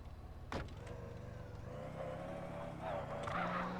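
Car engine in GTA San Andreas idling and revving steadily across the clip, with a brief louder burst near the start and faint speech underneath.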